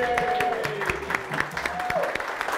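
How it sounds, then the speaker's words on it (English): An audience applauds with steady, dense clapping throughout, with a voice and a brief whistle-like tone over the crowd. "Give him a clap."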